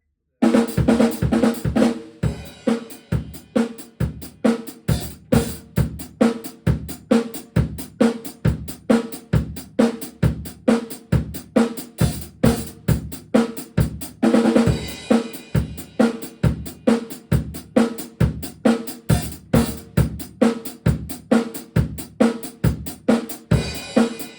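Drums play on a song, a loud, driving beat with evenly spaced kick and snare hits throughout and a busier fill burst near the middle, with no talking.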